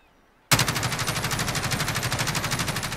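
An MG433 machine gun in Call of Duty Modern Warfare, fired prone from its bipod, opens after a half-second of silence into a loud, steady, rapid automatic burst that runs without a break to the end.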